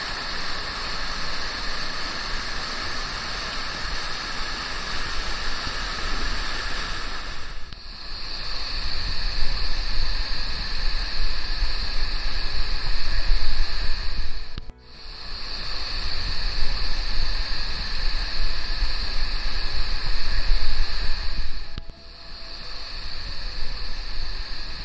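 Wera waterfall, a large cascade heard as a constant, roaring rush of falling water, loud and broadband, steady for the whole stretch apart from a few brief dips.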